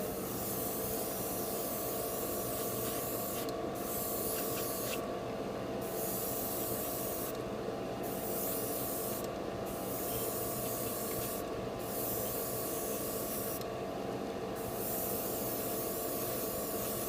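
An airbrush sprays a gloss coat onto a large Gundam RX-78-2 model kit, producing a steady, close hiss that runs throughout with several brief dips.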